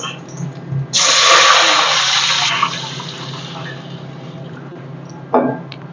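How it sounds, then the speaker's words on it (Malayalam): A cup of water is poured into a pot of fish biryani in one rushing splash lasting a couple of seconds, followed by a short clatter. "ഞാൻ ഇതിനൊരു കപ്പ് വെള്ളം ഒഴിച്ചു കൊടുക്കുകയാണ്"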